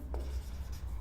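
A marker or chalk scrapes briefly across a board in a short rubbing stroke, faint and close, with no voices.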